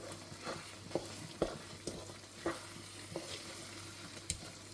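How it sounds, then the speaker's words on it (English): Plantains are stirred in a frying pan, soft scraping and dull knocks of a spoon repeating every half second or so over a faint, steady sizzle, fairly quiet overall. "I've added in my plantains. I'm going to give that a stir."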